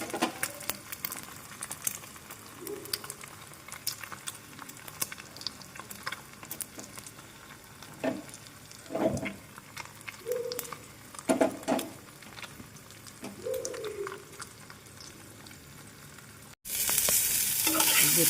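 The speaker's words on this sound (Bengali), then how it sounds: "যে আলু আর বরবটি ভেজেছিলাম আর ফুলকপি ভেজেছিলাম, সেগুলো একসঙ্গেই গরম করে নিচ্ছি।" Fried potato, yardlong beans and cauliflower reheated together in a pan, with a continuous low sizzle and several sharp spoon scrapes and stirs against the pan, a brief louder burst near the end, no talking.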